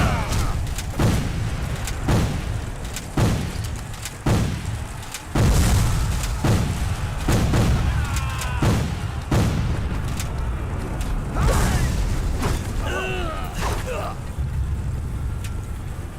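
Cannon fire and explosions in a Civil War video game land as a rapid series of heavy booms, loud and close, with shouting voices mixed in between the blasts.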